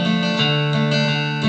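A sustained, heavily reverberant acoustic guitar tone through a Roland VG-99 rings on with a long wash of echo, steady and fairly loud, no voices.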